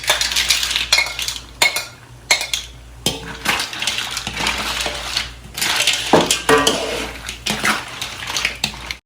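Fresh mussels clatter and splash into a pot of seafood with crabs, a busy run of hard shells clacking against metal and wet sloshing in quick irregular bursts, close and loud.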